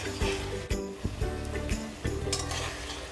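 A spice paste for Bengali egg curry is stirred and fried in hot oil. It gives a steady, close sizzle broken by repeated scraping thuds of the spoon.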